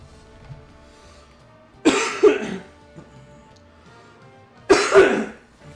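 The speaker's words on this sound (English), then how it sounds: "I'm so sorry about this cough, man. It's a dry cough, too" Two dry, harsh coughs about three seconds apart, each a short double burst, close and loud against a quiet background.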